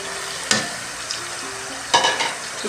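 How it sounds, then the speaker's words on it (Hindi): Tomatoes fry for bhindi gosht, a close, steady sizzle marked by two sharp bursts of stirring in a short stretch. "इसके साथ भी 2 मिनट भुनाई करेंगे"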